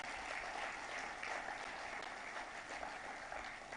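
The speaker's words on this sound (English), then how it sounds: "A huge round of applause, friends, for their incredible bronze." A large audience applauds the Indian men's hockey team for its Olympic bronze at a felicitation ceremony, a dense, continuous roar of clapping that holds steady without speech.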